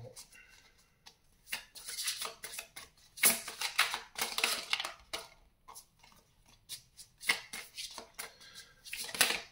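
Playing cards shuffled and drawn at a table, crisp riffling and flicking bursts that come and go between quiet gaps, close and fairly loud.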